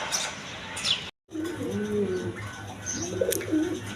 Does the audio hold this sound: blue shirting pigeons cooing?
yes